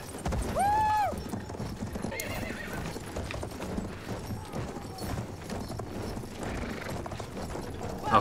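Horse hooves clip-clop steadily in Battlefield 1 while a horse gives a loud whinny near the start, set against constant battlefield ambience and distant rumble.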